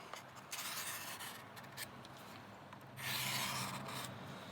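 Knife blade polished on a Work Sharp Guided Field Sharpener, heard as soft, close rasping rubs in steady back-and-forth strokes, with a louder stroke near the end.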